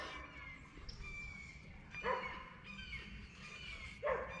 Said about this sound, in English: Some dogs in the background